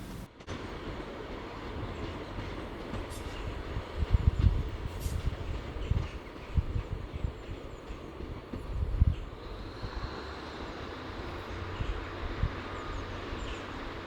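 A GWR Class 150 Sprinter diesel train pulls away from a platform onto the St Ives branch line, a low rumbling engine drone with occasional wheel clunks at moderate distance, growing a faint higher whine as it moves off.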